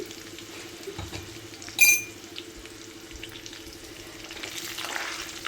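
Curry leaves and turmeric fry in a pan for usirikaya (amla) pachadi, giving a steady close sizzle with one brief louder hiss burst partway through and no voices.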